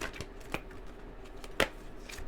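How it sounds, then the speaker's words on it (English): A few quick, crisp riffles and taps of tarot cards being shuffled close by, with short pauses between bursts in a quiet room. "Just going to shuffle the cards really quickly."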